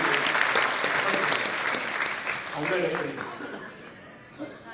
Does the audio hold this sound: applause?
yes